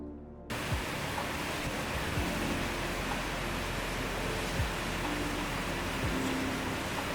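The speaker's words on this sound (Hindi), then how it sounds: "This is the first view of this tributary river to Beas, and this river is so beautiful" A mountain river, a tributary of the Beas on the Hampta Pass trek, rushes steadily and loudly nearby as a continuous broadband roar with no voices.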